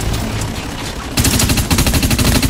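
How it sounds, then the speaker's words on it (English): Assault rifle fire in the Dust 514 shooter, loud and close, with a sparse stretch of shots followed by a rapid rhythmic automatic burst. "I actually like the assault rifle better."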